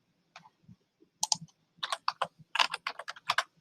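Fingers tapping on a computer keyboard in irregular runs of light, crisp key clicks, starting sparse and picking up into quicker clusters, close and quiet with no voices.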